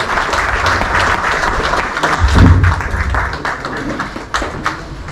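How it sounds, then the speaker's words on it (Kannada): At a bank retirees' foundation day event, an audience claps steadily to welcome a guest onto the dais, a loud, continuous patter of many hands with a few louder thumps in the room. "ನಮ್ಮ ಜೋರಾದ ಚಪ್ಪಾಳೆಯೊಂದಿಗೆ ಅವರನ್ನು ಸ್ವಾಗತಿಸೋಣ."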